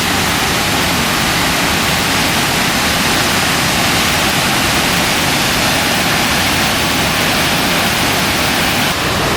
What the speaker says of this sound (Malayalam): അതിരപ്പള്ളി വെട്ടച്ചാട്ടത്തിൻ്റെ ഏറ്റവും അടിയിൽ നമ്മൾ എത്തിയിട്ടോ